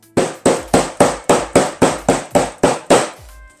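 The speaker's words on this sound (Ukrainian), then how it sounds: "приклали і простукали гумовим молотком" Ten sharp, evenly spaced strikes of a rubber mallet pressing pieces joined with aerosol contact adhesive, a steady tapping rhythm up close, each hit a dull thud with a short decay.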